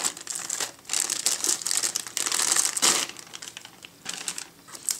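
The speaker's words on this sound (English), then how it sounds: "let's get the hard drive out of its plastic." Plastic wrapping pulled off a Seagate FreeAgent GoFlex desktop external hard drive, producing close, crisp crinkling and rustling in irregular bursts with brief pauses.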